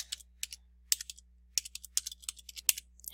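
Someone types a name on a computer keyboard: a close series of crisp, irregular key clicks in quick bursts with short pauses, heard alone over a faint low hum.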